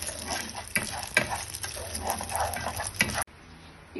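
Popcorn cooks in pork lard in a pot, giving a continuous loud sizzle and frying hiss with scattered sharp pops and stirring clatter, which stops abruptly near the end.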